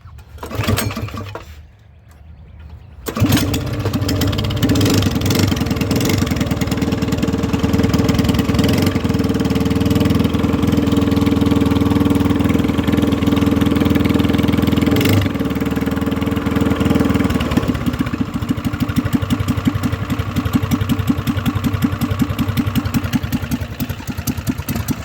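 An engine with its muffler removed starts after a few seconds of near silence, then runs loud and raw at a steady idle with a rapid, rattly, clattering throb that continues to the end.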